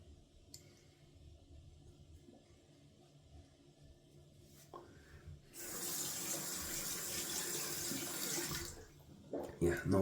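A razor rinsed under a running bathroom tap during a wet shave: a quiet start with small clinks, then a loud, steady gush of water for about three seconds before it cuts off, followed by a few knocks.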